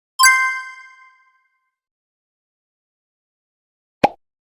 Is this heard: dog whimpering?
no